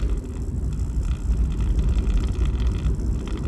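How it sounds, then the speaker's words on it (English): A car driving to work on a rainy road, a steady dense rumble of tire and road noise with broadband hiss throughout, loud and continuous with no speech. "Just driving to work"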